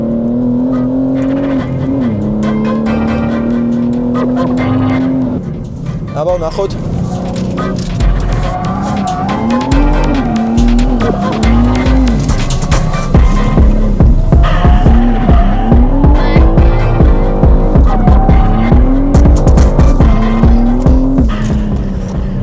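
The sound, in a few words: BMW M3 car accelerating with tire squeal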